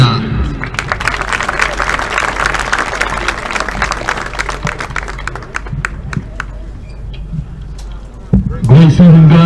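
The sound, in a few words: audience applause at football awards banquet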